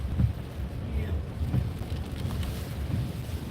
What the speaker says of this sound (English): There's still some wind coming through.